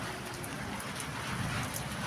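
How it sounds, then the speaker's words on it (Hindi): Heavy rain falls in a dense, steady hiss of countless drops striking surfaces, fairly loud and uniform throughout, with no talking. "और बारिश हो गई है तेज।"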